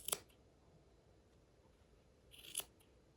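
Two quick, crisp snips of scissors cutting yarn on a pom pom maker, one at the start and another about two and a half seconds later, with near silence between them.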